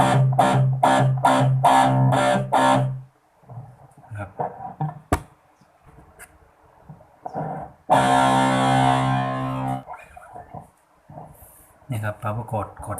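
An electric guitar plays a run of short, evenly spaced palm-muted power chords, then sparse picking and a longer ringing distorted chord, with brief speech between.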